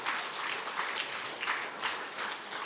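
A church congregation claps together during a new year dawn prayer service, a dense, steady patter of many hands with a slightly rhythmic pulse, no talking.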